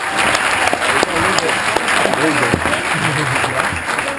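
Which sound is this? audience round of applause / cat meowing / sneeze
audience round of applause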